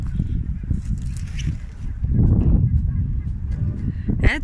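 A large flock of geese honks in noisy, overlapping calls, near and loud, swelling midway with water sloshing faintly beneath.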